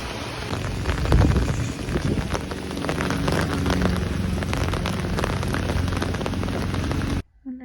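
Heavy rain falling in Paris, a dense continuous hiss of drops with some wind buffeting the microphone, loud and close, cutting off abruptly at the end.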